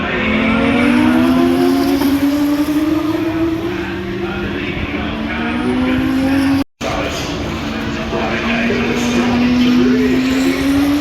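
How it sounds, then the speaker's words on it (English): Race cars at Silverstone, including a McLaren junior car, pass with a sustained high engine whine that rises and sweeps steadily, loud and near, with a brief dropout midway and a crowd-like wash underneath. "There it is, the McLaren Junior, Alex Dart"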